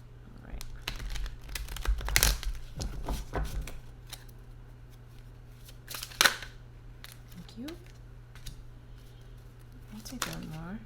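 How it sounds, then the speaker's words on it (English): Tarot cards handled and gathered up by hand, with soft crinkling, sliding and tapping of the deck in short bursts, close by, against a low steady hum and occasional background sounds. "Why am I having a hard time grabbing all these cards?"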